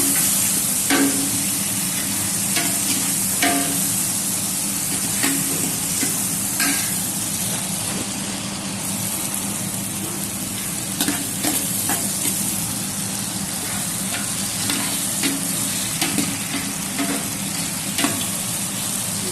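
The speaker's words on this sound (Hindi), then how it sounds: "टमाटर ऐड कर दिए, अब इसको मिक्स कर देंगे।" Tomatoes fry and sizzle steadily in a pan for veg pulao while a spoon stirs them, with repeated scraping strokes running over the constant crackle and no talk.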